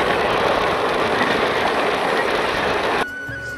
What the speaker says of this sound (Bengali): ভালো স্পিডে কিন্তু টানছে ট্রেনটা।